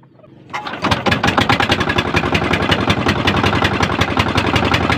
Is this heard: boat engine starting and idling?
yes